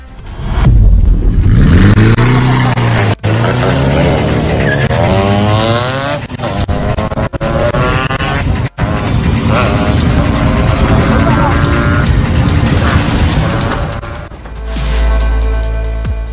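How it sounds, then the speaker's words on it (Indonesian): Engines rev and tires squeal loudly as a police car chases a fleeing minibus along a public road, a sustained roaring rush with rising and falling engine tones, broken by a few sharp cuts and overlaid by a narrator's voice. "Aksi kejar-kejaran di jalan raya pun tak terelakkan karena pelaku terus berusaha kabur"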